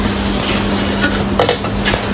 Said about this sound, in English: So we're going to start frying.